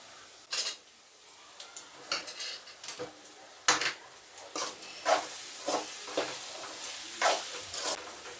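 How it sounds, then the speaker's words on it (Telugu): A spoon scrapes and clinks against a pan as a beetroot and carrot fry is stirred in oil, about a dozen irregular metallic strokes over a faint sizzle. "పైనుంచి కొంచెం ఆయిల్ వేసుకోవాలి వేసుకుందాము ఒకసారి ఫ్రై కలిపేస్తాము"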